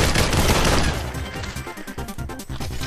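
Rapid bursts of gunfire in the VR shooter Population: One, a loud dense volley for the first second, then sparser shots and impacts continuing at a lower level.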